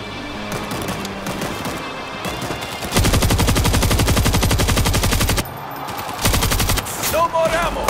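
A turret machine gun fires in World War Z: Aftermath, set in Rome during a horde fight, with loud, rapid sustained bursts and scattered gunfire around them.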